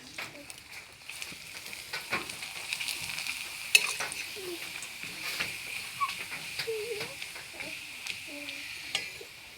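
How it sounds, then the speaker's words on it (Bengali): Papad pieces frying one at a time in hot oil, a steady soft sizzle with light stirring scrapes and small pops, fairly quiet and close. "এরকম করে একটা একটা করে আমি সবগুলো বেজে নেব"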